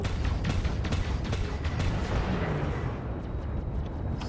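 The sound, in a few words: gunfire from an enemy ship in a space video game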